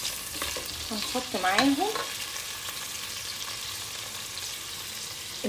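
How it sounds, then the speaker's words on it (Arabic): Chopped onion and carrot sauté in a pan with a soft, continuous sizzle and some stirring scrapes, and a voice speaks briefly early on. "قطعنا البصلة، وقطعنا جزرة، هنشوحها"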